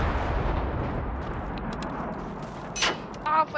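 Gunfire in the video game Generation Zero, a heavy booming shot at the start that rolls off into a long decaying rumble, followed by quieter scraping and a short burst of noise near the end.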